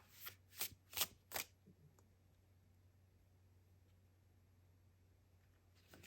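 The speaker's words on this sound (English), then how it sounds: "This is the first deck I'm going to use, and I'm going to pull 4 cards from this deck." A deck of tarot cards is shuffled in four quick, crisp riffling bursts close by, followed by near silence with a faint background hum.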